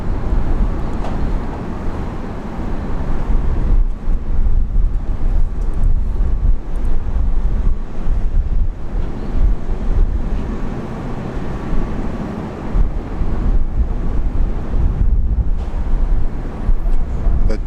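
Gusty wind at Brisbane International Airport buffets the microphone in heavy, uneven low rumbling bursts that rise and fall, dominating the scene under a severe storm.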